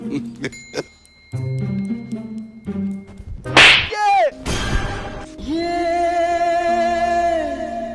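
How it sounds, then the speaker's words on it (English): A sharp slap delivered for a Nigerian comedy skit scene on set, heard as a couple of crisp, loud smacks in the middle, surrounded by ringing tonal sounds and background noise. "We just need a cutaway of the slap scene"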